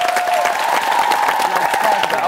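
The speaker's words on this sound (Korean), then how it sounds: "어머님에게도 감사의 박수 부탁드리겠습니다." Studio audience applauding at a Korean Saturday variety talent show, a dense steady burst of clapping with crowd noise and a faint voice or tone running underneath.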